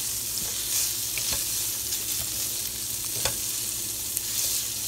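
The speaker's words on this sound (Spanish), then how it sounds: "ahora vamos a freír aquí nuestras salchichas" Chopped sausages fry in a little oil for frijoles charros, a steady close sizzle and spatter with occasional light pops and stirring scrapes.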